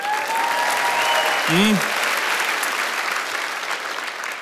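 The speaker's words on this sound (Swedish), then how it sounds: "Ska vi börja med en applåd för damerna här, va?" Applause from a roast audience for the ladies present, a continuous broad clapping wash with a brief voiced murmur partway through.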